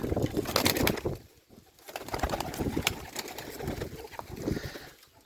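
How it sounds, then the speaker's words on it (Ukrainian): Pigeons coo steadily inside a large aviary, their soft throaty calls overlapping close by, with faint rustling and a brief wing flutter among the flock. "Це гарна голубочка."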